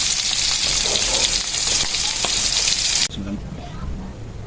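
Food fries loudly in a pan with steady, dense sizzling and crackling close by, briefly dropping in intensity near the end as something is stirred.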